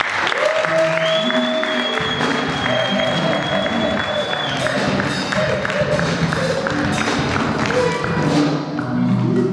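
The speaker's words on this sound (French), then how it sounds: "on acclame Jésus" A church congregation at a worship day applauds, with sustained loud clapping mixed with cheers, raised voices and a few thuds, filling the whole stretch.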